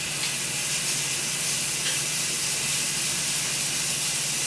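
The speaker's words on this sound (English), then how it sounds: "I'm going to let that sear up here for just a little bit." Chicken searing in a hot oiled pan for chicken piccata, a steady, close sizzle and hiss running evenly throughout with no talking.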